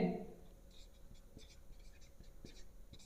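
A pen scratches out an equation on paper in a quiet classroom-style setting, soft intermittent strokes and taps close by, faint and unhurried with a brief rustle at the start.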